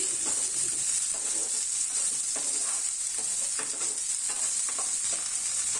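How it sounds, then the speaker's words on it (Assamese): Cut raw mango pieces sizzle steadily in hot oil with kalonji in a pan while a spatula stirs them, the scraping strokes sounding close over continuous frying hiss, with no talk. "হেতাৰে এবাৰ আমখিনি ভালদৰে লৰাই দিছো"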